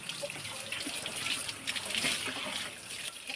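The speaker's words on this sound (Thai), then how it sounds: "ล้างน้ำให้สะอาด แล้วก็เอาใส่ถาดลูก" Food is washed in water before cooking, with steady splashing and trickling of running water close by, loud and continuous, with no voices over it.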